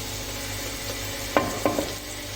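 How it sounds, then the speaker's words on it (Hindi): Onions sizzle and fry in a pan over a high flame while goat trotter paya is being cooked, with a steady, close frying hiss broken by a few sharp utensil clinks against the pan. "अब मैंने थोड़ा सा इसका फ्लेम हाई कर दिया ताकि हमारे प्याज हल्के से कुक हो जाए।"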